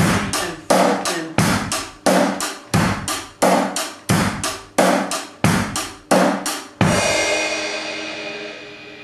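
A steady slow 4/4 rock drum groove repeats evenly, sharp snare hits on 2 and 4 landing between kick beats, ending with a ringing crash cymbal that fades out.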